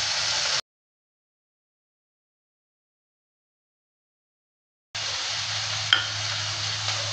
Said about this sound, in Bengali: রসুন পেঁয়াজটাকে দেওয়ার পর ভালো করে নেড়ে চেড়ে নিচ্ছি আর কিছুক্ষণ সময় নিয়ে ভালো করে ভেজে নেব